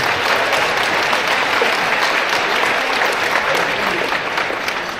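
Sustained applause from a luncheon audience at an awards event, steady and dense throughout, many hands clapping at close to moderate distance with no pauses.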